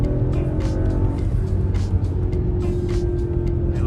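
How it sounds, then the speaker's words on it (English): An Audi B9 SQ5 with an 034 Motorsport cold air intake runs close by, its engine a loud steady drone with turbo whooshing and intake hiss layered over it, no talk. "You can hear so much more turbo noise. You can actually hear it sucking in air."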